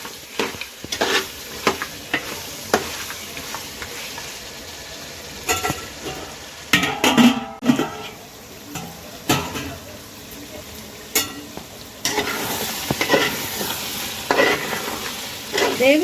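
Masala for goat head curry frying in a pan, a continuous sizzle broken by repeated scraping stirs and spatula knocks over sixteen seconds, with occasional speech in the background.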